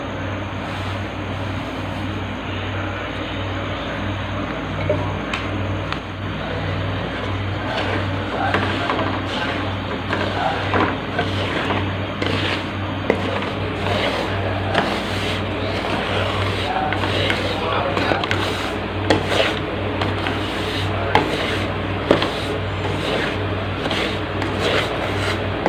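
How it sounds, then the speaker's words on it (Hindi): Semolina roasting in ghee in a pan, a soft steady sizzle with regular scraping as a spoon stirs the grains, while a voice talks over the cooking. "घी में सूजी डालकर इसको भून लेंगे।"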